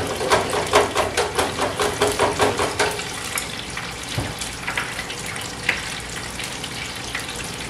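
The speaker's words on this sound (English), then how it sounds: "So while our fish is frying, let's drop our French fries to the final cook." Fish and French fries deep frying in hot oil, a dense continuous sizzle and bubbling with rhythmic pulsing at first, then settling into a steady hiss with occasional pops, heard close with no talking.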